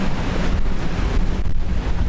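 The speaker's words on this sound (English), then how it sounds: "The winds are going to get a whole lot higher than they are now." Strong Hurricane Nicole wind buffets a sailboat at anchor in about 40 feet of water, a loud, constant roaring rush with microphone buffeting and surf-like noise, and no voices.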